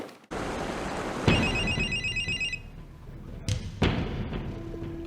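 A telephone rings in a Korean spy TV drama scene set in Shanghai, a bright electronic ringtone pulsing in quick repeated bursts for about a second, framed by heavy thuds and low background rumble.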